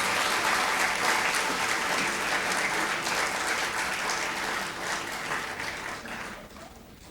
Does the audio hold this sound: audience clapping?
yes